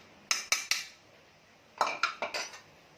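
A spoon working flour dough in a metal bowl for Konkani khajoori, heard as two quick runs of sharp clinks, three strikes and then four, close and crisp against a quiet room.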